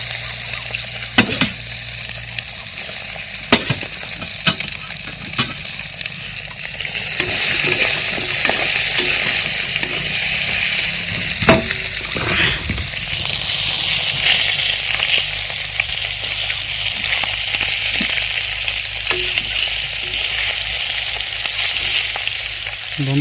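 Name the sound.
fish frying in a pan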